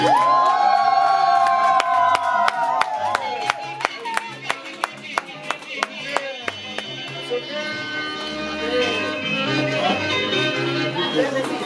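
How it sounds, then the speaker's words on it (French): Guests at Maman Clémence's 2023 birthday party clap in a quick, even rhythm and cheer over loud sustained music, crowd noise swelling as the beat continues. "Vos applaudissements, nous."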